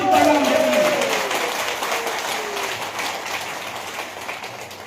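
A crowd at a pension protest rally claps, the applause strongest at the start and slowly thinning. A voice rings out briefly over the first second.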